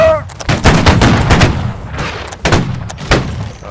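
A volley of gunfire in a video game: several loud, close sharp shots crack in quick succession, each with a booming tail, leaving no talk between the bursts.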